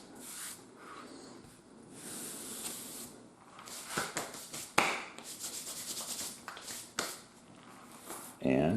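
Sawdust is brushed and wiped off a wooden steam engine build, with repeated close rubbing and sweeping strokes and occasional sharp scrapes and taps, with a voice talking in the background.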